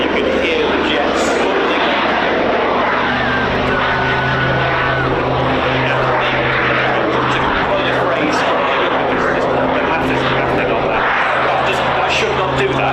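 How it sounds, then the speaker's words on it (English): Aircraft at the Old Buckenham airshow pass in a loud, continuous engine roar with a steady droning hum, close and unbroken throughout, with a crowd's murmur faintly underneath. "And there you can hear the jets."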